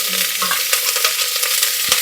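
Sliced onions and curry leaves frying in hot oil in a pan for chicken pulao with coconut milk, a steady bright sizzle with occasional stirring scrapes, close and fairly loud, no voices.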